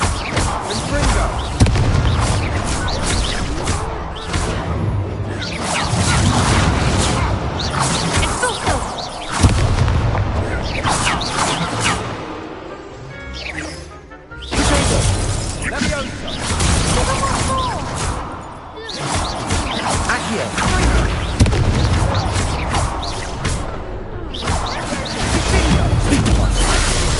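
Repeated explosive spell blasts from the Hogwarts Legacy video game boom loudly amid dense combat noise and crashes, spread across the whole stretch, with a voice calling out spells in between.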